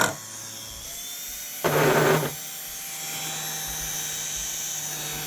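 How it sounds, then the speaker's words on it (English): A 120-volt drill motor whirs loudly in a short burst of about half a second, then drops away, leaving a steady low electrical hum and faint background tones. "120-volt drill motor."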